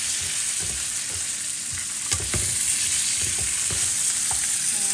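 Whole unpeeled shrimp fry in a pan, loud crackling sizzle running steadily while a spatula stirs with occasional knocks and scrapes against the metal, no talking.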